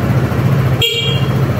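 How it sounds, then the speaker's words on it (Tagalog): Horn of a QJ Motor Fortress 160 maxi scooter sounds once, a short bright honk near the mic lasting about a third of a second over steady engine idle and background noise. "Busina."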